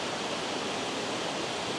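A waterfall among autumn landscape scenery gives off a steady, even hiss of rushing water, broadband and unbroken, with no voices over it.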